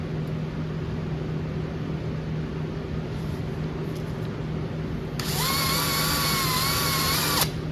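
A power drill freehand boring a hole through a car hood for Dzus fasteners: steady workshop hum at first, then a loud high-pitched whining drill run lasting a couple of seconds before stopping abruptly.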